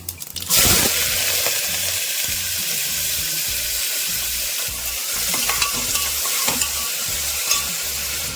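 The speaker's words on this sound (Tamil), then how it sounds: "நல்லா பொருள் கட் பண்ண வெங்காயம் சேர்த்துக்கிறேன்" Chopped onions and spices hit hot oil in a pan with a sudden loud sizzle, then keep frying in a steady, bright hiss while a utensil stirs with occasional scraping clicks.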